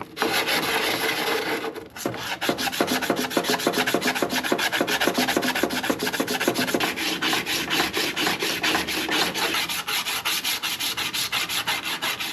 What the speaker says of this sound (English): Some 180 grit sandpaper, and we're just trying to flatten this out and see what happens.